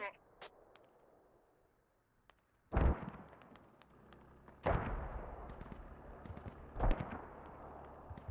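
Mortar fire in the tactical shooter Squad lands as three heavy, booming blasts spaced about two seconds apart, with quieter distant pops and crackles between them.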